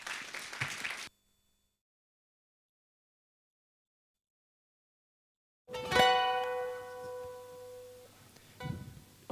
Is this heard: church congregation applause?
yes